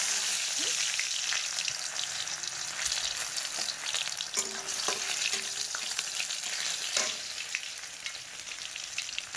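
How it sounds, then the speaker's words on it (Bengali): Tomatoes fry in oil with panch phoron for a cabbage dish, giving a steady close-up sizzle with occasional clinks and scrapes of a stirring spoon against the pan. "টমেটোগুলো ভাজা হয়ে গেছে"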